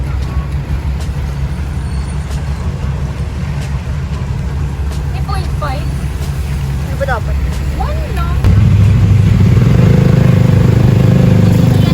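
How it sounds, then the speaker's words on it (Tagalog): Road traffic hums along steadily with a low engine rumble that swells louder near the end, while people talk over it. "Traffic, guys."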